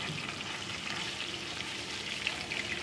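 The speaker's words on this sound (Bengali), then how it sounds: "বেশ কিছুক্ষণ ধরে এটা মাছগুলোকে কিন্তু বেশ কড়া করেই আমরা ভেজে নেব।" Katla fish pieces fry in oil in a kadai, a close, steady crackling sizzle that carries on without a break and has no talk over it.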